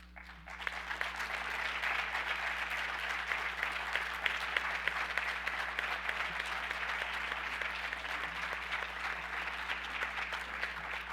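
Sustained applause from a graduation ceremony audience honoring the teachers, steady dense clapping that holds for about eleven seconds over a low constant hum, with no talk.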